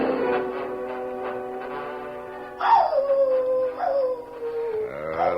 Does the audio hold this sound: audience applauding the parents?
no